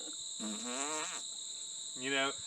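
A voice makes two buzzing, blubbery raspberry noises imitating a fart, the first longer and wavering, the second short, over a steady high electronic whine.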